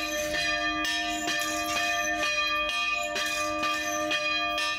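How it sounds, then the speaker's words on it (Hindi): Church bells ring steadily in a sparsely populated Lebanese village, a loud, continuous peal with repeated strikes and long sustained tones, with no voices. "फिर भी चर्च की घंटियां गूंजना शुरू हो रही हैं।"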